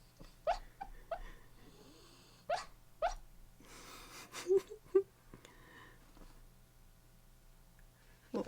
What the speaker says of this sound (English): they've got to be able to hear her snoring now